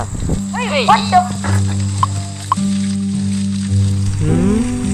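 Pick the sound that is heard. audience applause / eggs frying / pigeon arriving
eggs frying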